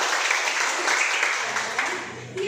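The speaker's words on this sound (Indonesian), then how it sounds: "Tepuk tangan dulu untuk teman-teman." Applause from a group of classmates in a class setting, a dense steady patter of clapping hands at moderate loudness that tapers slightly toward the end, with a voice coming in under it at the close.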